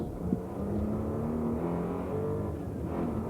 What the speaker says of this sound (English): again accelerating up to around 100 miles an hour by the old slate quarry there